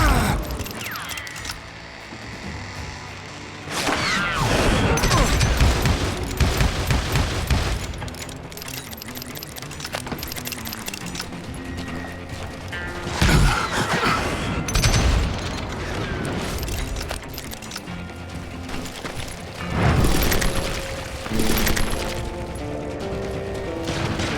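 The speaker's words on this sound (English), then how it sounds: "I saw Henry Plummer throw dynamite at me." Explosions and gunfire in the Western shooter Call of Juarez: Gunslinger, as dynamite is thrown: loud booming blasts at about 4, 13 and 20 seconds over a continuous dense clatter of shots and game score.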